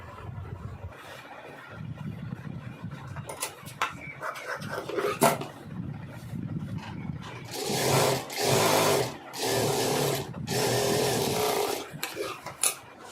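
A sewing machine stitching contrast piping onto fabric whirs in several short, loud bursts with brief pauses between them, after quieter handling noises and clicks.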